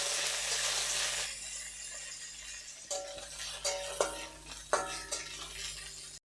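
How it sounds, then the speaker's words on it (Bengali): Cashews and raisins fry together in ghee in a pan, a steady close sizzle with a few sharp metallic scrapes and clinks of stirring toward the end, no voices. "দিয়ে দিচ্ছি অল্প কিছু কাজু, কিশমিশ, এটা একসঙ্গে ভেজে নেব"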